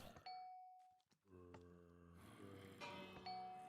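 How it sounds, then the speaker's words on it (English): A bell in ZombieCraft rings out to open a new round, a few clear ding tones over quiet game background, faint overall. "you hopefully on stream just heard that bell, which means that that's the start of the next round"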